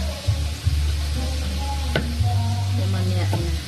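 A pork chop fries in a pan with a steady sizzle, a low hum underneath and a few sharp clicks from utensils, heard close at a moderate level.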